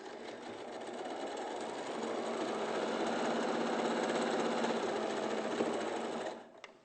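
A sewing machine stitches quilt blocks together in one steady, continuous whirring run that holds for several seconds, close and fairly loud, then stops abruptly.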